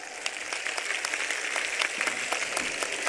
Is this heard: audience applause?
yes